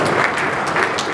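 An audience at a business association's annual awards dinner claps in a dense, steady burst of applause that fills the room, close and loud, with no talk over it.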